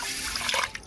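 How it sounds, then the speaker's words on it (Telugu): Water poured onto basmati rice in a kitchen pot, a short, soft splashing and trickling rush that is fairly faint and heard alone. "గలాసున్నర నీళ్ళు పోస్తున్నానండి"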